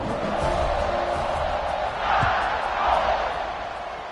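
A football stadium crowd roars steadily through the whole stretch, swelling louder in two waves, with a broadcast voice talking over the din.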